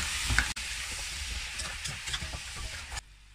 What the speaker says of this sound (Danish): Retten skal nu stå og simre